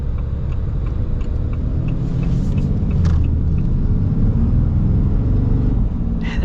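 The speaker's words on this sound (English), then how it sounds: "I love how this drives. It drives so nice for an HD truck" A 2025 Ram 2500 Mega Cab heavy-duty pickup drives along, heard from inside as a constant low rumble of engine and road noise with light clicks and rattles, steady throughout and no speech.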